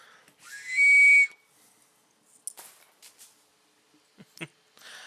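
Air blown through a thin corrugated plastic tube gives one loud, steady whistle lasting about a second, followed by faint scattered clicks and rustles.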